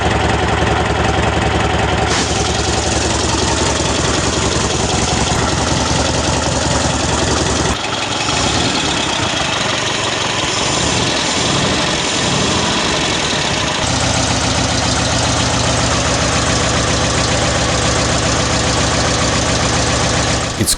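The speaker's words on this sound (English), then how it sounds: "It works okay, the idle speed is quite low and steady." An air-cooled V4 engine, freshly rebuilt and fitted with a Dilutor carburetor, idles loud and close with a low, steady rumble and some knocking, running alone with no talk for about twenty seconds.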